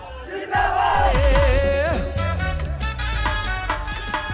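A neighbourhood crowd carrying flags gathers to watch Gadar 2, with loud, sustained shouting and cheering close by, overlapping voices, and tonal rising chant-like calls over a dense, continuous roar.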